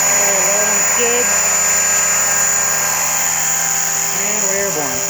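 An HK-500 RC helicopter's electric motor and rotor whine steadily as the throttle is slowly raised toward liftoff, a loud high-pitched drone with someone speaking briefly over it.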